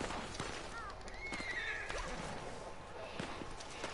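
In a Western action video game, a horse whinnies with a rising, wavering neigh while hooves clip-clop over the ground and other game sounds clatter nearby.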